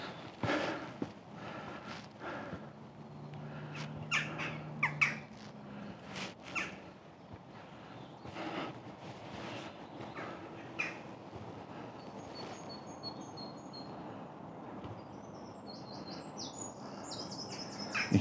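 Birds chirp and call in and around a fenced aviary in a park, scattered short tweets near and far, mixed with footsteps on rough ground and faint outdoor ambience.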